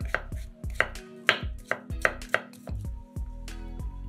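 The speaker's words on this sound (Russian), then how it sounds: "500 грамм шампиньонов моем, разрезаем пополам и нарезаем произвольными кусочками." A knife chops button mushrooms into pieces on a board, with about ten crisp, irregularly spaced cuts heard close and clear, with no talking.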